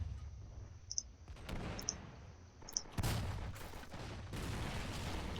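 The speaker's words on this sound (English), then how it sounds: "I'm just going to quickly get this artillery to target here." Artillery fire in the war strategy game Men of War: Assault Squad 2, in a battle against Viet Cong and NVA forces: sharp clicks followed by a heavy, rumbling burst of explosive blasts that continue as a sustained roar.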